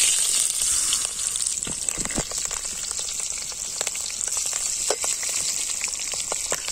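Fennel seeds and green and dried chillies fry in hot oil with a loud, continuous close-up sizzle, dotted with small crackles and pops throughout.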